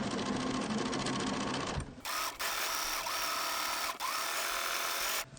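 A sewing machine runs steadily, stitching small bits of coloured tulle onto an abstract wildflower art quilt, with a continuous loud whirring hum broken by brief pauses and restarts.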